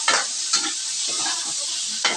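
Pork adobo with onion and chili being stirred in a pan, a steady sizzle of frying with repeated scraping clinks of a utensil against the pan, close and alone without talk.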